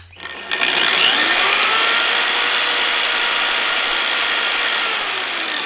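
A Vevor belt sander motor switches on and spins up almost instantly into a loud, steady high whine that holds for several seconds and eases slightly toward the end, close by and without talk.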